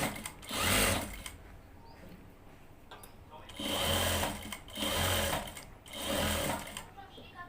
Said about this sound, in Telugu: ఇలా పైపింగ్ క్లాత్ మలిచిన తర్వాత మళ్ళీ పైనంగా స్టిచ్చింగ్ వేసుకోవాలి.